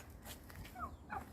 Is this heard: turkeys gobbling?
yes